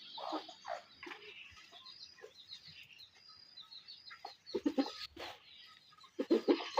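Free-range native village chickens cluck and call in scattered bursts at moderate distance on a farm, with a few louder squawks near the end against a quiet outdoor background.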